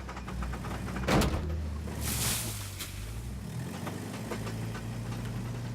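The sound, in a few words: noisy car gearbox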